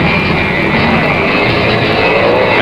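An early drag racing funny car, a Ford Mach 1 running against a Camaro, roars down the strip in a loud, dense, sustained engine blast with no gap.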